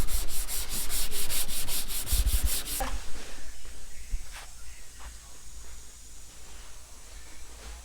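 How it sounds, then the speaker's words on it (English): Harsh rhythmic rubbing of sanding over the body of a 2020 Subaru Forester Sport, steady and close at first, then fainter and scattered with occasional knocks. "On the phone while he's sanding."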